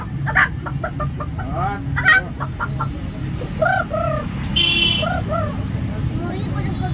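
An eight-year-old boy imitates a hen clucking, with short rising and falling cluck calls over a noisy outdoor crowd murmur.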